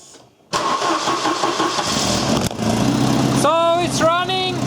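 A Volvo 940 Turbo with a freshly fitted generator belt cranks and fires after a short quiet moment, then settles into a loud, steady run nearby; a voice speaks over the running engine near the end.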